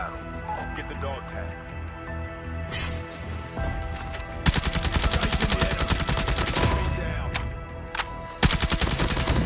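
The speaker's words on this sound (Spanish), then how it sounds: "Por aquí se oían disparos." Rapid automatic fire from a KN-44 rifle in a shooter video game. Dense, loud bursts of shots rattle over quieter game ambience, with a brief pause between volleys.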